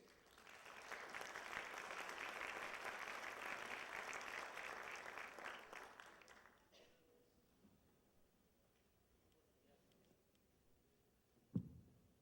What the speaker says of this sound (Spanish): recibamos con un aplauso al secretario del Ayuntamiento del municipio de San Pedro, licenciado Hugo Ruiz Cortés